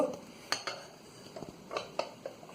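Sweet yogurt in a container is covered with a lid, giving several light clinks and taps of metal and crockery spaced over a couple of seconds, close and faint in a quiet kitchen.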